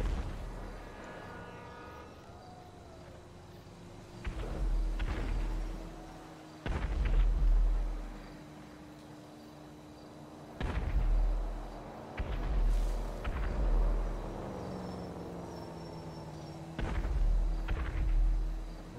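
Fireworks exploding in GTA 5 roleplay, a string of deep booms and thuds spaced several seconds apart, some doubled, rumbling away over a quiet game ambience with no talking.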